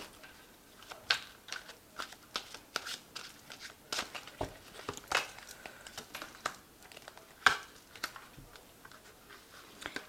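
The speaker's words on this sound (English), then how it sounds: "I'm just going to draw some cards from the Angel Tarot." Angel Tarot cards shuffled and drawn, faint close papery flicks and soft taps in irregular bursts, light rustling in a quiet room.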